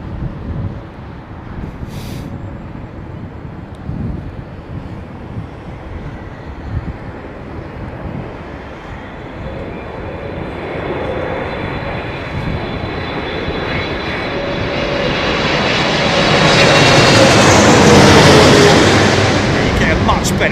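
An American Boeing 777 airliner lands at Heathrow Airport, its engine roar and rushing wake vortex swelling from a distant rumble to a loud, close sweep over steady background noise.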